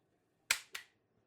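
A 4x12g CO2 stock-build airgun firing one shot: a sharp close crack followed a quarter second later by a second, softer pop, then quiet.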